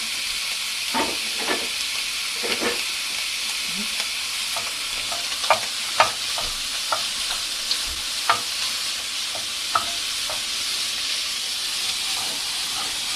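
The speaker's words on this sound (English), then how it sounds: "you only want to cook it for a couple minutes until it browns" Steak pieces fry and brown in a hot pan, a steady bright sizzle punctuated by occasional crackles, pops and stirring scrapes, close and continuous with no talking.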